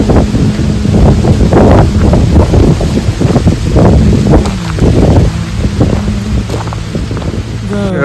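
Strong wind blows on a mountain trek near Bhimashankar, roaring and buffeting the microphone in loud, uneven gusts, with voices talking underneath.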